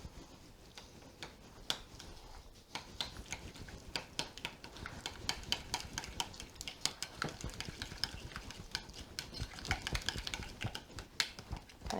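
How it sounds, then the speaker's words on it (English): Sour cream and powdered sugar stirred together in a bowl give a soft, close run of quick clicking and tapping spoon strokes, steady and faint throughout with no voices. "So we're just going to stir this together."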